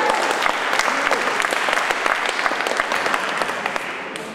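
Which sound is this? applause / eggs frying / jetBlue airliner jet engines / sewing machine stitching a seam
applause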